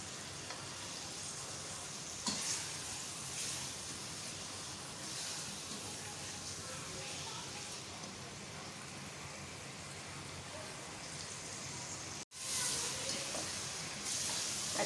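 Mutton pieces roasting in a hot pan give a steady, continuous sizzle and hiss close by, with a brief break near the end before the frying noise resumes.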